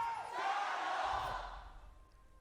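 Roaring arena crowd at a League of Legends LPL esports match, a broad wash of cheering that swells briefly and then fades away, fairly faint overall.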